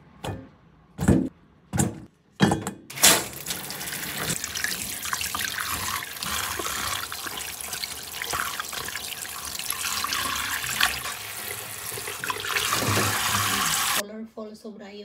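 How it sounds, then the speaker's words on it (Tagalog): Tap water runs into a kitchen sink as vegetables are washed, with a few short splashing bursts, then a steady close rush of water that cuts off near the end, while someone talks over it. "Hugasan ko muna ng mga gulay."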